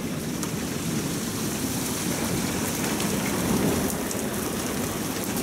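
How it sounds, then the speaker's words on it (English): Heavy rain pours down in a dense, constant roar, close and loud, with no voices, during a tornado-producing storm in Oklahoma City and Moore, Oklahoma. "Can't go over there, it's raining too much."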